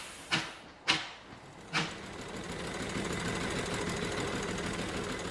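A steam traction engine labouring up a hilly road, opening with three sharp, loud chuffs spaced about a second apart, then settling into a steady, dense mechanical rumble and clatter.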